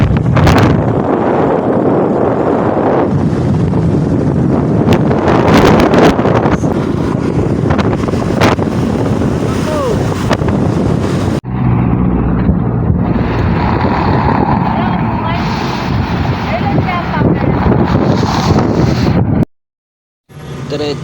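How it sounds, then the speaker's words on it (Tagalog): Strong wind buffets the microphone while riding a motorcycle on a first ride, a loud continuous roar with gusty surges and a brief dropout near the end, and no clear talk over it. "At dito banda, sobrang lakas ng hangin."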